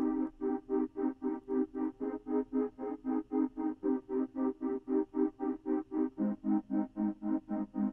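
A sustained synth pad chopped into rapid, even pulses by a steady tremolo, throbbing rhythmically at a moderate level with no voices.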